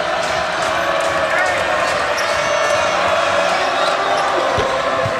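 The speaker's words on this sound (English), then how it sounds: "this crowd has been awesome tonight. They've been making noise the entire game" Constant loud roar of a college basketball arena crowd at an NCAA game, Howard vs Gonzaga, a dense unbroken wash of voices with faint squeaks and a low thump near the end.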